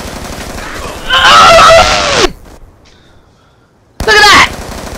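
Gunfire from Call of Duty Black Ops 2 on Xbox 360 comes in two loud, dense bursts, one lasting about a second and a shorter one near the end, with a quiet gap between them.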